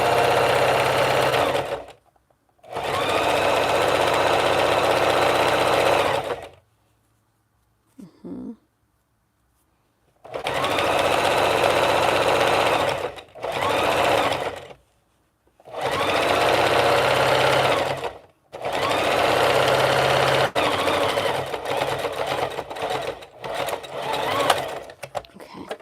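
A sewing machine stitches in several sustained bursts of steady whirring, separated by short pauses and one faint clunk, loud and close with no talking.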